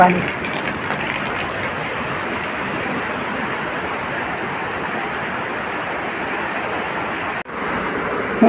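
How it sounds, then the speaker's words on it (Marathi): Continuous rushing floodwater roars steadily and loudly around a farmhouse for several seconds, a dense broadband wash with a brief dip near the end. "असा आवाज येतोय धड धड धड धड पाण्याचा"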